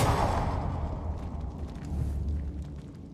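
A Confringo fire spell bursts in Hogwarts Legacy, a loud explosive whoosh that swells at once and then rumbles and hisses away over a few seconds, heard alone without talk.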